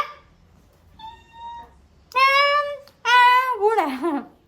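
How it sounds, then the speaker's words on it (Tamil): Domestic cat meowing several times up close in a home, with rising and falling tonal cries, the last two long and loud, and a faint earlier mew before them. "பூனை"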